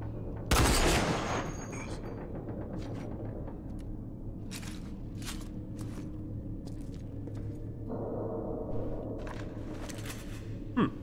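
Gunfire in the first-person shooter RAGE: a sharp, loud burst of shots near the start, then a steady low rumble with scattered sharp clicks and clanks and a brief final crack near the end.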